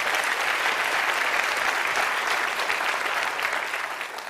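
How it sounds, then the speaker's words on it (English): Audience applause at the 2023 Harvard President's Innovation Challenge awards ceremony: a dense, steady wash of clapping from a large crowd that stays loud throughout and eases slightly at the end. "Another huge round of applause for all the incredible folks in our community."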